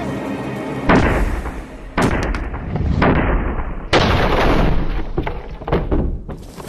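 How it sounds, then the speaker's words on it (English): A medieval breech-loading cannon fires at wooden boards in a series of loud booming blasts at about one-second intervals, each followed by rolling rumble and crackling debris; no one speaks. "how much damage could these medieval cannons really deliver?"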